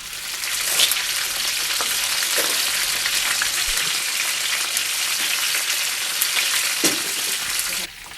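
Oysters from Oléron sizzle and spit steadily in a hot frying pan, a dense continuous crackle close by with occasional brief pops and no talk over it.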